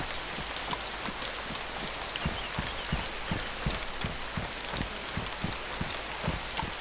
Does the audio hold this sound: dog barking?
no